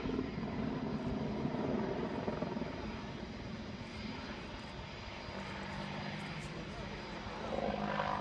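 A 10-ton aircraft flies a corkscrew display manoeuvre at the Farnborough Airshow, its engine roar steady and broad throughout, with crowd murmur and voices beneath.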